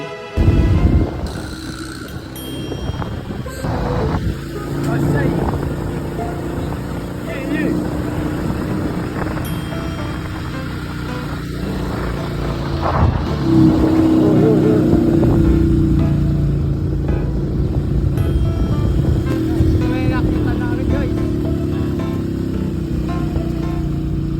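A motorized tricycle's engine drones steadily while riding along roads in Isabela, rattling and rising in pitch as it picks up speed, with people talking over it throughout.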